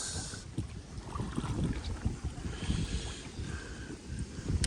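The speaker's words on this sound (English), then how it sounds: "It's so windy, I'm about ready to, I almost lost my oar twice." Strong wind buffets the microphone on open water while bass fishing from a small rowed boat, a continuous rough gusting roar with faint water sloshing, loud and steady throughout with no talking.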